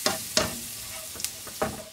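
Flour is stirred into a fish soup base in a pot, a few quick scraping strokes of a spoon against the pot over a soft steady sizzle.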